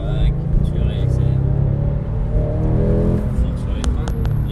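A Porsche GT3 Cup race car on a track at Saint Laurent de Mûre accelerates out of a braking zone, a deep continuous engine roar building, with someone talking over it.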